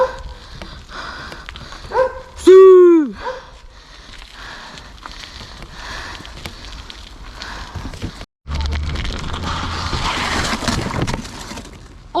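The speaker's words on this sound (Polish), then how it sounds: "Czemu psy szczekają?" A dog gives one sharp, rising bark, then dogs keep up faint, scattered barking in the distance under outdoor background noise.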